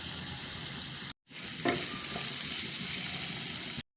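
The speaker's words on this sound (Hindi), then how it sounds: "अब इसमें मीडियम साइज़ का बारीक कटा हुआ प्याज डाल देंगे और इसको भी हल्का सा फ्राई कर लेंगे।" Finely chopped medium onion frying in oil in a pan, a steady loud close sizzle that cuts out briefly then resumes with stirring scrapes, no voices.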